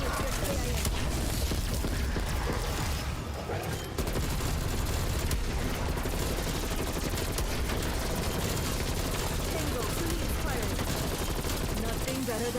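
Continuous dense gunfire in Call of Duty zombies mode, rapid automatic shots and bursts with occasional booms, loud and unbroken throughout, with speech mixed in.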